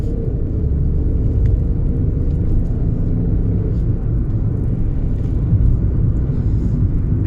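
A 2015 third-generation Skoda Fabia with a 1.0 MPI engine is being driven, a steady low cabin rumble of engine and road noise holding evenly throughout with no speech.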